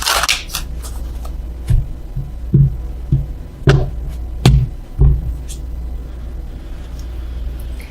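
Tarot cards being shuffled and handled up close, a series of brisk riffling and slapping bursts over a quiet room hum.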